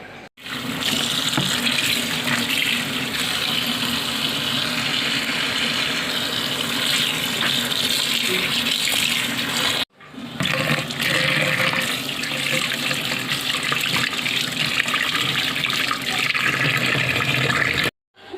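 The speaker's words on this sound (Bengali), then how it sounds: "এখন ধনিয়া পাতা আর শুটকিগুলো ভালোভাবে ধুয়ে নেব।" Tap water runs steadily over coriander leaves and dried fish being washed in a sink, a continuous close rushing stream with a brief break midway before flowing on.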